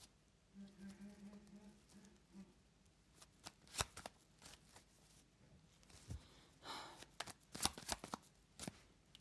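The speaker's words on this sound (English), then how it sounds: "I'm having trouble shuffling. My cards are sticking like crazy." Sticking cards shuffled close up in several short riffled bursts, crisp and quiet, separated by brief pauses.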